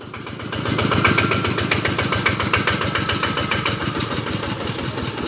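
A farm tractor's diesel engine chugs steadily at idle, a rhythmic low thumping that stays loud and close throughout with no voices.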